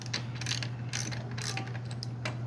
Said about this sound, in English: Loosen the nuts on the outside of the clutch cover